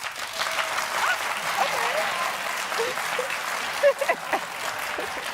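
A studio audience claps in a broad, steady burst during a talk show interview segment, the applause thinning and breaking into a few scattered louder claps toward the end.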